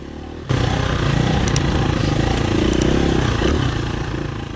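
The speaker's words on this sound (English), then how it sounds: "went down the hill just a little bit and watched Dean ride on by" A KTM 350 or Yamaha RMX450Z dirt bike engine on an enduro trail, starting abruptly and loudly as the bike rides close past, its revving roar holding steady and then slowly fading.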